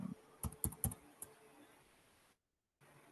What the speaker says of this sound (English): I heard you typing and I saw what you typed.